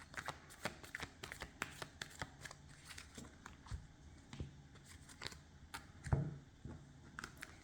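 A deck of tarot cards being shuffled and cut gives quick, crisp riffles and soft slaps in an irregular rhythm, close and fairly quiet, with a louder thump near the end.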